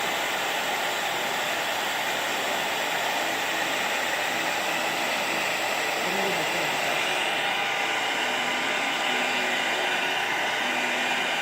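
A hair dryer blows steadily and loudly throughout while a small Coton puppy is dried after a bath. It is a continuous broadband roar with faint voices beneath.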